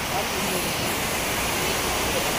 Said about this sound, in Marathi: तर हे बघा ह्याला जितवण्याचा धबधबा बोलतात आपल्याकडे